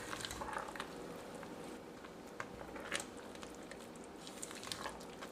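Apple filling thickened with lemon juice and cornstarch is stirred while it cooks in a pan, giving soft, quiet squishing and gentle bubbling pats with a few slightly sharper clicks.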